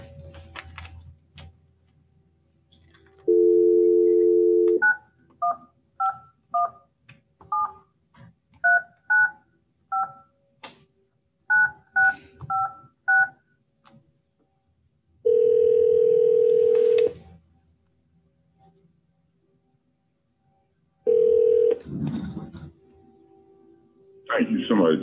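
A telephone keypad dials a number: a short burst of dial tone, then a quick run of touch-tone beeps in uneven groups, followed by longer steady tones, all clear and close with faint room noise between.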